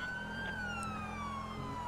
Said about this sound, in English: we got a siren going now